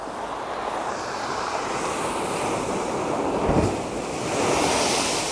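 Stormy sea crashing on a beach: a continuous roar of waves and surf mixed with strong wind buffeting the microphone, loud and dense throughout, with one heavier wave swell near the middle.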